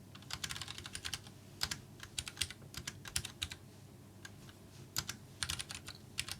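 Steady, fast typing on a computer keyboard during a coding session, with close, crisp key clicks in irregular bursts and short pauses and no talking.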